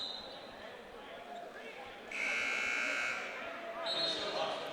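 At a Grand Island versus Lincoln Southwest high school boys basketball game, a loud electronic buzzer blares twice in the gym, each tone holding about a second or more, with crowd noise and an announcer's voice underneath.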